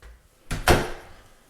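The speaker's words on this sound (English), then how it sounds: "I'm gonna close this door." A storage area door in a house swings and closes with a soft swish followed by a solid thud, close and loud, with no voices.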